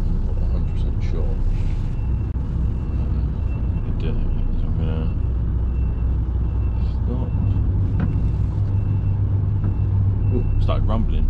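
An HGV truck rumbles steadily at night while driving, a continuous low engine and road drone filling the cab, with faint talking heard under the noise.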